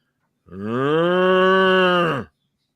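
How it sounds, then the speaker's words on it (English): A single long cow moo, loud and steady for nearly two seconds, rising and then falling away at the end, alone with no talk. "you hear off in the distance"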